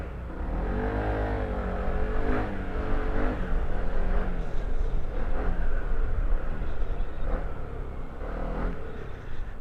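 Engine of a candy red Venture ADV with a faulty throttle body butterfly, revving and fluctuating unevenly up and down, loud and close, with no talk over it.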